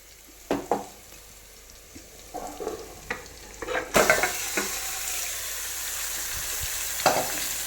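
Marinated mutton dropped into hot oil with curry leaves, starting with a few scattered clatters before a loud sizzle bursts in midway and keeps going steadily, with occasional stirring knocks in the pan.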